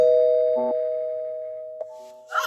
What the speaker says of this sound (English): We got the bell ringing.